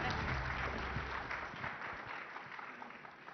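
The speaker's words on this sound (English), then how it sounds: "Can we have a huge round of applause," An audience at the News18 Rising Bharat Summit 2026 applauds with a steady, somewhat muffled wash of clapping that slowly thins over about three seconds.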